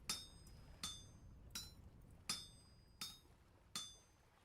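Chiseling in the video game Vintage Story: six crisp metallic taps at an even, unhurried pace, each ringing briefly before fading, faint and fairly close with no talk.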